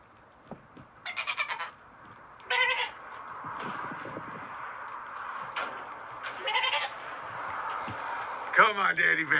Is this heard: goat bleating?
yes